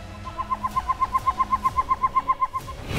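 A northern pygmy owl calls alone, repeating a clear hollow toot about fifteen times in a fast, even series that fades at the end.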